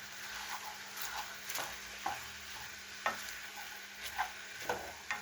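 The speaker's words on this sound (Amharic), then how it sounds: "ይሄንን ሚክስ ማድረግ ነው፣ ማደባለቅ ማለት ነው" A utensil stirs cabbage and macaroni in a pot, giving soft irregular scrapes and taps over a quiet sizzling background, close and without speech.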